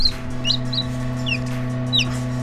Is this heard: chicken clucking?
yes